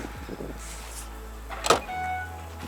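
A 2018 Mercedes E350e plug-in hybrid's powered boot starts after a foot swipe under the rear bumper, a quiet electric motor hum followed by a sharp latch clunk and a steady whirring motor drive.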